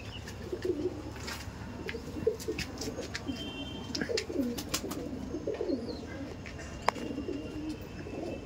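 Pigeons coo softly in repeated low, throaty phrases at a family loft keeping over a hundred birds, with faint clicks and rustles around them and no talk.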